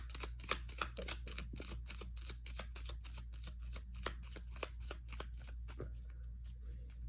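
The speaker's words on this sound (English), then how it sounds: "I'm going to shuffle 3 more times, and then I'm going to just pull from the top." Rapid riffling of tarot and Lenormand cards during a card reading, a steady run of crisp flutters repeating for several seconds up close, then thinning out near the end.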